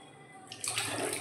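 Hot water poured from a vessel into cooked hyacinth-bean dal for a Maharashtrian amti, a short splashing gush starting abruptly after a quiet moment.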